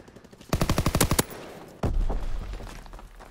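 Machine gun fire in a video game, Hardpoint mode on a Gibraltar map: a rapid, loud burst of about a dozen evenly spaced shots, then a heavy blast-like boom that trails off into rumbling noise.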